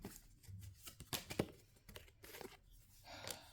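Tarot cards shuffled by hand give close, quiet papery flicks and riffles in irregular bursts, with soft rustling between them.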